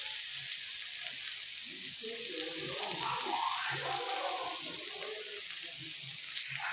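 Carrots sizzling in a pan during egg chow mein cooking, a steady broadband hiss that stays even throughout with faint stirring underneath.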